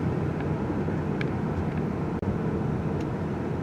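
A 2024 Kia Carnival minivan rolls through city traffic, its steady, muffled road and engine rumble heard from inside the cabin, with no talk.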